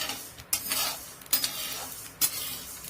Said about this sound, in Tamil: லைட்டாக பொரிக்கிற சவுண்டு கேட்கும், வெடிக்கும்.